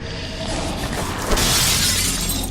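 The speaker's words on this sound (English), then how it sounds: "Only thing left to do is break the glass with the stake I found where the big guy came from." Glass shattered by a stake in the survival horror game Amy, a loud sustained crash of breaking shards with a bright burst midway, close and alone.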